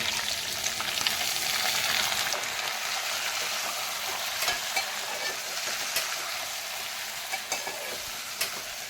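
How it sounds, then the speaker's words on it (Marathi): Green peas fry in hot oil in a pan, giving a steady close sizzle with occasional clicks and stirring scrapes, set against faint background noise. "मस्तपैकी या तेलात फ्राय करून घ्या. आणि आता मटर टाकून घ्या."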